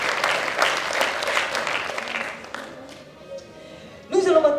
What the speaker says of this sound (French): On l'applaudit et on la félicite également